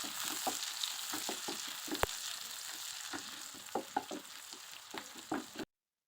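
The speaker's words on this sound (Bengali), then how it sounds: "এরপর কিছু পেঁয়াজ কুচি দিয়ে হালকা করে ভেজে নিব।" Chopped onions fry in mustard oil for a North Bengal potato ghati with fish, a loud continuous sizzle broken by repeated spatula scrapes and clinks against the pan, with no speech.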